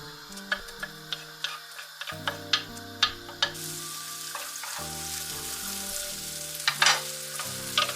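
Green peppers frying in a little oil in a pan, with a crackling sizzle punctuated by regular ticking clicks of stirring over background music.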